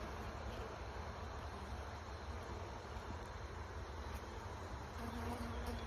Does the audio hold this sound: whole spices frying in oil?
no